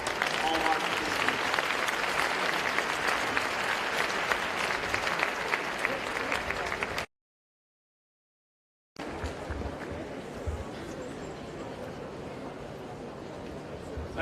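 Sustained audience applause for a panel moderator at the close of a discussion, steady and full for about seven seconds, then a brief silent gap before applause resumes at a somewhat lower level with faint voices under it.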